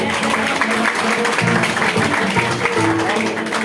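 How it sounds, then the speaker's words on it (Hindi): Loud, sustained applause from an audience at a Hindi motivational New Year event, honoring a branch manager; dense clapping fills the whole stretch with tonal hum or music underneath. "मैं चाहूंगा एक जोरदार ताली उनके लिए।"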